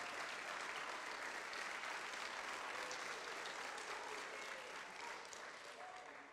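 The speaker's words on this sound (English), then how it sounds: "Let's give them a round of applause" A school audience applauds mentors at a Dads Take Your Child to School Day event in Florida, a dense, steady wash of clapping that holds loud throughout and tapers slightly at the end.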